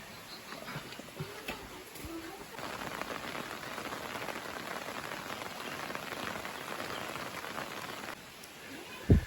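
Steady rain pattering on surfaces around a village house in Samahni valley, Azad Kashmir, a soft even hiss with scattered drips and taps running throughout, fairly faint, with a sharp knock near the end.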